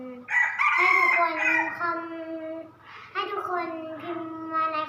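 A chicken crows loudly and close by, a long drawn-out call followed by a second shorter crow, with faint background murmur between.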